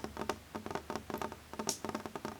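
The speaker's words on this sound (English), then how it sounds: "Rain taps steadily against the window." Steady rain taps against a window in a run of soft, close, irregular patters with no voices.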